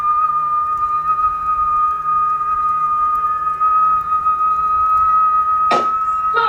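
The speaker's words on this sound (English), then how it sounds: "When I do the whistling, how does that feel to you?" A person whistles one long, steady, high, unwavering tone that holds for several seconds, close and fairly loud, ending with a brief knock or bump.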